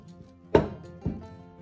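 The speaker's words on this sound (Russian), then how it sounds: "Одну большую красную луковицу мелко нарезаю" Two sharp knife chops through a large red onion on a cutting board about half a second apart, close and crisp against a quiet background hum.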